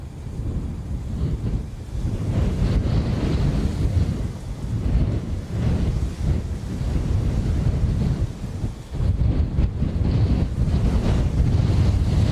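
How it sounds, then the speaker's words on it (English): Strong, buffeting wind gusts at Dublin Airport roar across the microphone in waves, loud and continuous with brief lulls between surges. "Decent gusts of wind again."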